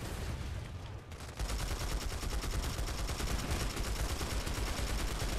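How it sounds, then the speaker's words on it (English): Rapid, dense burst gunfire from a Planetside 2 battle on PS4 rattles continuously, loud and close, with sustained automatic fire filling the scene after a brief dip. "A little burst fire going on in my life."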